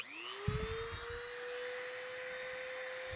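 A Dremel rotary tool spins up to its highest speed and carves a wood grain texture. It gives a steady, loud high-pitched whine that rises at first, with faint scraping bursts as the bit touches the surface.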